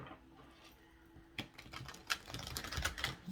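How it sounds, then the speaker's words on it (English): Soft papery riffling and light taps from tarot cards being shuffled close by, a quiet stretch followed by a busier burst of quick flicks. "I'm just going to go one more time on the shuffle"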